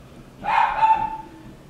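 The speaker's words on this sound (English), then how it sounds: "Oh, they got the dogs going, it sounds like." Dogs barking somewhere in the distance, a short burst of a bark or two that rises and then fades over a quiet background.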